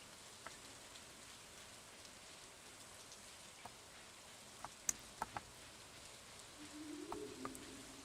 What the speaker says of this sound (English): Run through the rain.